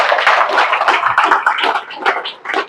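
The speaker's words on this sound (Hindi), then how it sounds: "मेरे लिए न सही अपने आप के लिए ताली बजा रहे।" An audience claps at a motivational speaking event, a loud, dense burst of applause from many hands, close and sustained before tapering slightly near the end.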